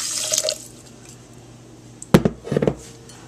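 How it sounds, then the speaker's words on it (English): Cold water poured onto chia seeds in a bowl, with short splashing and dripping bursts near the end after a quiet stretch, plus a faint earlier trickle. "I'm going to add 1 cup of cold water."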